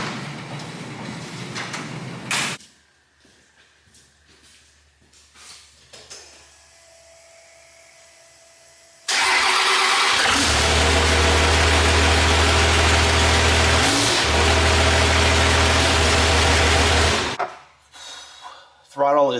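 A Cummins engine starts and settles into a loud, steady idle that runs for several seconds. Quieter mechanical noises and talk come before it, and it cuts off near the end.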